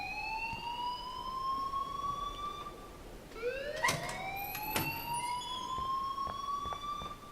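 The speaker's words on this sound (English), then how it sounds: "please turn off that alarm since that's your job" An alarm at a school in the video game Life Is Strange wails in drawn-out rising tones, fairly loud, and a second tone layer joins halfway through while sharp clicks and knocks sound over it.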